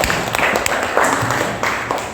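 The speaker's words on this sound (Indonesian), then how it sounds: "Sudah bagus sekali itu ya, tepuk tangan untuk semuanya." Students in a classroom clap together for their classmates, a short, dense burst of applause with sharp hand claps throughout.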